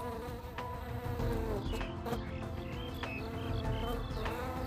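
SCP bees in a Roblox Winnie the Pooh: Blood and Honey game drone with a constant buzzing hum, steady and moderately close, while faint musical tones sit in the background.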